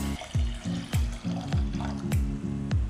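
A plastic bottle being filled with water for a Moina live-food culture gives a rhythmic series of about eight hollow, pitch-dropping glugs, close and moderately loud, with splashy water noise between them.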